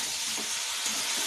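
Tomatoes hitting a hot pan during a masala paneer chicken curry, giving a steady, close broadband sizzle that holds evenly for just over a second with no talk.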